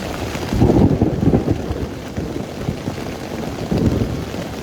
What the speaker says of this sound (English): the storm is just sitting on top of us right now